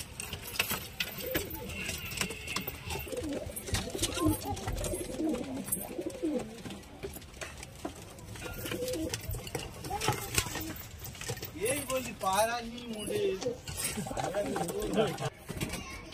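Chabga, Kala Sobuj and Laljira pigeons kept in intense heat coo repeatedly at close range beneath ongoing talk and intermittent clattering knocks.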